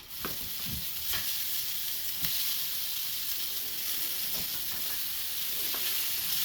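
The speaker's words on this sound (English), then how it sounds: "get a quick little sear of our vegetables" Vegetables searing in a hot pan after cooking a beef shank, a constant close sizzle and hiss broken by occasional soft stirring and scraping knocks.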